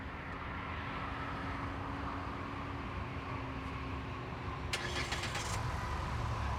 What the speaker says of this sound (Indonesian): Tapi yang istimewa adalah dia punya remote start engine.